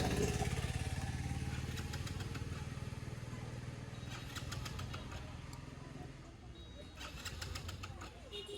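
A Hero Splendor Plus motorcycle that has run out of fuel tries and fails to start, giving a steady low mechanical rumble with rhythmic ticking and a dip partway through, close by and fairly loud throughout.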